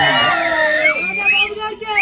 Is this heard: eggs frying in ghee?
no